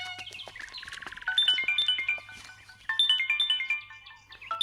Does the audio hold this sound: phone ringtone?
yes